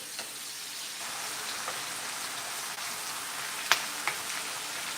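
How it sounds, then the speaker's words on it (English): Ground beef sears in a pan, flattened out and left to cook, giving a steady, soft sizzle with a few brief pops, fairly quiet and with no talking. "I kind of like to flatten it out and let it just cook for a little bit so I can make sure I get a nice amount of that sear on my ground beef"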